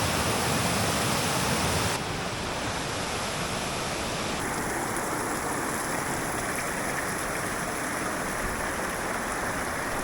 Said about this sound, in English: The thundering sound of cascading water